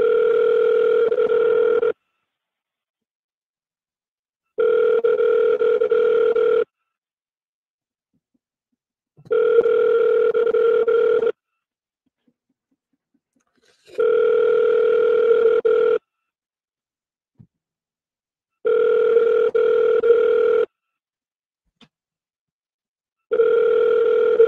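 Outgoing telephone call ringing unanswered: six evenly spaced ring-back tones, each about two seconds long with roughly two-second silent gaps, steady and clear with no talk.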